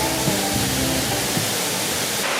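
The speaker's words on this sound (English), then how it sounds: "That is a heckin' big, awesome waterfall." Large waterfall at Hopewell Rocks on the Bay of Fundy, a loud continuous broadband roar of rushing water with no letup, heard close up and alone.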